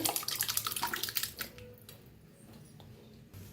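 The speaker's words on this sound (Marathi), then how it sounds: "आता गरम पाणी या डाळीत ओतूया" Hot water poured into tempered dal, a close gushing splash lasting about a second and a half, then dying down to a quiet bubbling.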